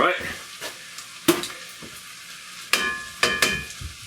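Oil sizzles in a fry pan over medium-low heat, a faint hiss broken by several sharp clacks of a wooden spatula scraping and stirring, with a voice speaking at times.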